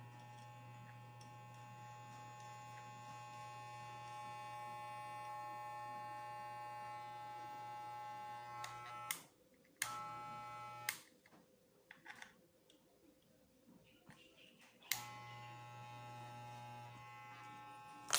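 A Jin Chaoba Huang electric hair clipper runs with a steady, close, buzzing hum, stopping abruptly, starting and stopping again in short bursts, then running once more.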